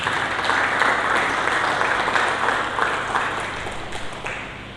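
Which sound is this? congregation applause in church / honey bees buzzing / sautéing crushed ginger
congregation applause in church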